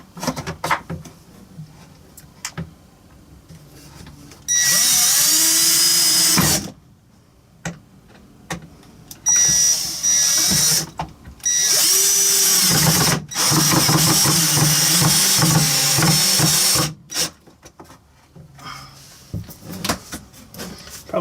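A power drill drives 2-inch screws into wood while a tankless water heater is installed in a travel trailer: several loud sustained whirring bursts of a few seconds each, separated by quieter handling noises.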